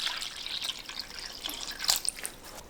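Water trickles and splashes faintly into a bowl of cabbage for about three seconds, with no speech.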